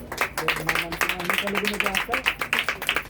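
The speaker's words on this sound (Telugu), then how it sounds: "చప్పట్లు కొడదాం అందరూ కూడా" A church congregation applauds after a sermon during fasting prayers, a dense patter of many hands clapping steadily while a voice speaks over it.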